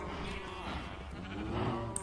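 Sheep in Minecraft bleat through a steady game soundscape, with a louder call near the end rising over the background clutter.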